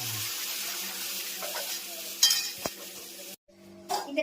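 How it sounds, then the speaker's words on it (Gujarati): Cumin seeds and other spices sizzle steadily in hot oil while tempering dal in a home kitchen, with a couple of sharp utensil clinks partway through. "જીરા અને આ દાળનો"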